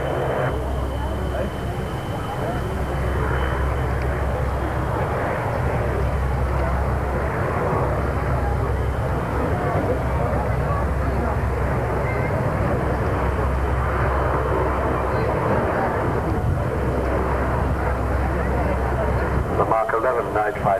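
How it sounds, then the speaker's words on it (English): Gloster Meteor NF Mark 11 night fighter jet flying at a 1992 air show in Humberside, a steady loud engine roar throughout, under an announcer's commentary over a public address system. "The Mark 11 night fighter, the one that we're watching now, came into service in 1950."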